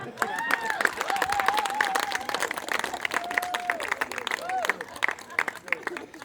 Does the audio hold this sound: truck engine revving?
no